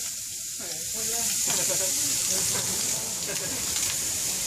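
Bacon sizzling and frying on a griddle at a Mexican street food stand selling tacos, burgers and hot dogs, a steady loud hiss throughout with faint scraping and a brief voice at the start.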